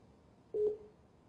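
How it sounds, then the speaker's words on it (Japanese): A telephone call tone sounds while a call is being placed, a single short steady beep at low level in an otherwise quiet room. "電話かかってますね。"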